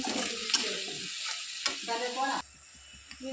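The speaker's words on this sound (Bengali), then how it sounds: "মশলাটা ভালো করে ভেজে নেবে মশলাটা ভালো করে ভেজে নেব" Spice paste frying in a pan, heard up close as bubbling sizzle with spatula stirring and scraping that cuts out briefly partway through, then quieter frying resumes.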